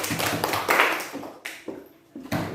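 A classroom claps together in a burst of quick, uneven applause that dips briefly and then resumes, close and fairly loud.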